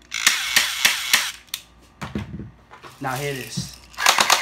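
A BB gun fires with sharp, snappy cracks amid clicking handling noise, while someone talks close by between the shots.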